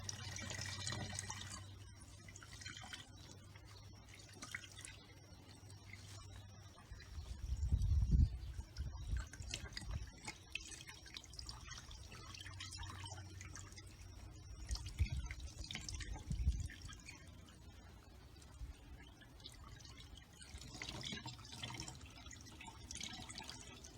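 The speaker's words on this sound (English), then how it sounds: "some of it's going to drip on top of your grate" Liquid drips from squeezed wet cellulose fabric onto a grate during ice dyeing, faint scattered drips and small splashes over a low background hum, with a couple of louder trickles.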